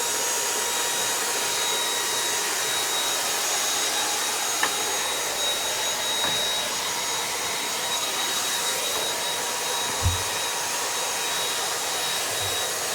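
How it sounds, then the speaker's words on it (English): A vacuum cleaner roars steadily and close for the whole stretch while cleaning smoke detector vents, with a couple of faint clicks and a brief low thump near the end. "this is where you want to make sure that you vacuum, is along the side and the vent here"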